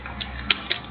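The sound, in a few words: computer mouse triple click in SketchUp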